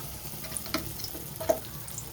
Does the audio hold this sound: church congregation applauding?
no